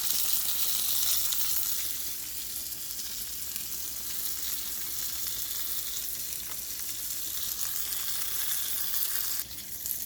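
Onions sizzling in a pan, a steady, close hiss of frying that runs throughout with faint stirring scrapes and no talk.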